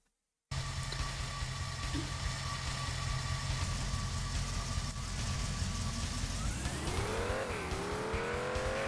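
A car engine in the video game Driver 2 on Chicago streets drones steadily after a silent start, then climbs in pitch as it revs near the end, fairly quiet with no talk.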